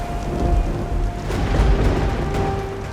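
A loud thunderstorm fills a fantasy TV drama scene with a dense hiss of pouring rain over deep, rolling rumbles of thunder. Faint sustained tones run underneath.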